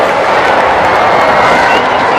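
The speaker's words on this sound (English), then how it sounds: "Nice crowd in G-Town, Cardinia Park, home of the Mighty Cats." A Big Bash cricket crowd at Cardinia Park in Geelong makes a dense, steady roar of cheering and chatter, close and loud throughout.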